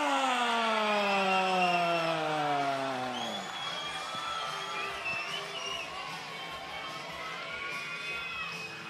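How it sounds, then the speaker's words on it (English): A long drawn-out announcer's shout gives way to a crowd roaring and cheering at a cage fighting event in Brisbane, a sustained, fairly distant wash of voices and whoops. "The crowd just erupting."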